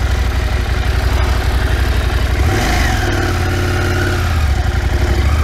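Husqvarna Norden 901 motorcycle engine running steadily and loud close by, a constant mid-low drone with a brief rev swell midway, no talking.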